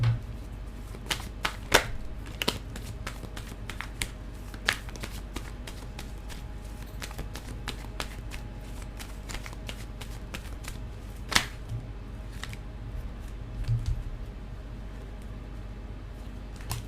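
Tarot cards shuffled by hand during a reading: a soft, steady riffling under a low background hum, with frequent sharp snaps and flicks of cards scattered throughout, close and fairly quiet.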